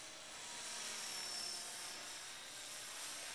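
EXI 450 RC helicopter flying aerobatics at a low 2300 RPM headspeed, a steady high-pitched whine of rotor and motor holding level and continuous throughout, moderately distant with no talking.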